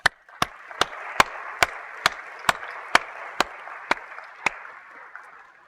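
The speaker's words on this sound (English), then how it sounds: "Let's give them a round of applause." Audience applause at a chemistry keynote lecture, a steady wash of clapping from a crowd with a series of sharp, evenly spaced loud claps punctuating it, holding level before fading slightly.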